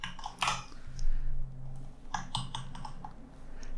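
Someone types code on a computer keyboard, quick irregular bursts of close, crisp key clicks with brief pauses between runs.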